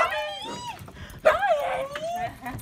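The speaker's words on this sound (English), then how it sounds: "It's our dog." A dog at a grandmother's home giving whimpering, whining yelps mixed with excited people talking and greeting it close by.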